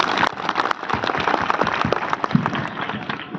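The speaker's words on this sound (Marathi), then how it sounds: "आपण सगळ्यांनी टाळ्या वाजवून एकदा तिचं अभिनंदन करू" Steady, dense audience applause at a motivational speech event, many hands clapping together at a constant loud level without pauses, with no talking over it.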